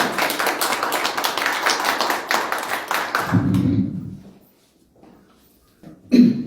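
Applause at a Korean gathering welcoming an ambassador to give a congratulatory address: dense, steady clapping for about three seconds, then a low hum, near silence and a single short cough.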